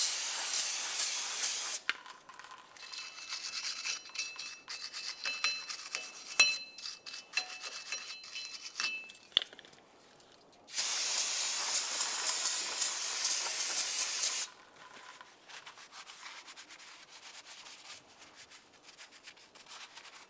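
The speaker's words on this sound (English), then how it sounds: "For this, we'll use parts cleaner and a wire brush." Parts cleaner hisses loudly from an aerosol can onto the end of an axle on a 1998–2002 Lincoln Navigator in two long bursts, with quieter rubbing or wire-brush scrubbing between them.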